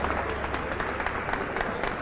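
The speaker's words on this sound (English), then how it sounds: "A round of applause," Dealers and distributors at a 2022 new line-up launch event give a round of applause, a steady wash of clapping with a few louder individual claps, somewhat distant and moderate in level.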